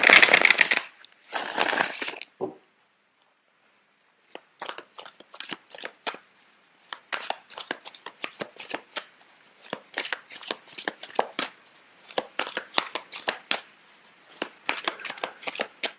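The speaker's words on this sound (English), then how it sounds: "I'm going to shuffle the cards out for you." Tarot cards being shuffled up close: a few riffling bursts, then a long run of quick, crisp flicks and snaps in irregular clusters, with no talking.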